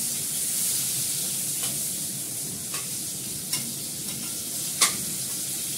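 Coarsely cut onions fry in a pan with a soft, steady sizzle, while a spatula stirs them and taps the pan now and then, the last tap the loudest.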